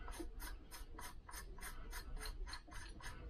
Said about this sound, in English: I'm gonna put the two nuts on it. Double nut it home.